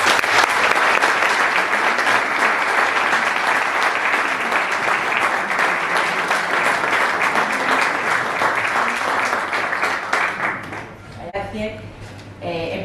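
An audience at a talk on mental health and addictions applauds steadily for about ten seconds, dense sustained clapping that fades out before a voice begins speaking.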